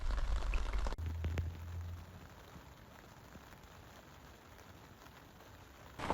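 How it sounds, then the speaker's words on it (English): Rain falls steadily at a UK carp fishing site, a soft even patter that continues throughout, faint and close, with a brief louder rustle at the start. "hopefully the rain dies off around 5 o'clock according to the weather"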